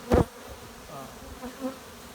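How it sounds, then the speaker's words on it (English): Honey bee hive opened during requeening, giving a steady, low colony buzz with a single louder bump or thump at the very start. "you can tell a lot about a hive, their attitude, what they're feeling like by the way it sounds"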